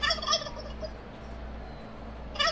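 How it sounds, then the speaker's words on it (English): A turkey gobbles loudly in two rattling bursts, one at the start and one at the end, with quiet room tone between them and no voices. "Freaking emotional support turkey."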